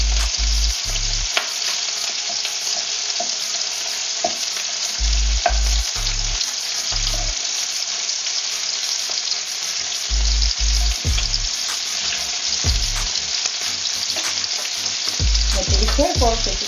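Pork pieces fry in a hot pan for Filipino pork adobo, giving a loud, dense, continuous sizzle and crackle close up, with occasional faint pops and a brief clatter near the end.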